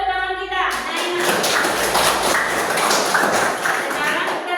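A classroom of students applauding a classmate, dense overlapping clapping filling the space, steady and loud for several seconds before tapering off.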